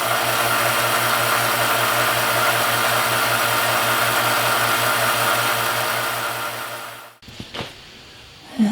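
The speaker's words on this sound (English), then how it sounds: "this vacuum pump will crush a 5-gallon bucket" A vacuum pump on a K&T milling machine runs with a loud, steady mechanical drone and rhythmic throb for about seven seconds, then cuts off abruptly, leaving brief clunks and rattles.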